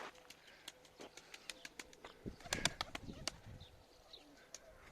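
Pigeons beside a coop give soft, intermittent calls and rustles over a low outdoor background, with a denser cluster of sounds near the middle.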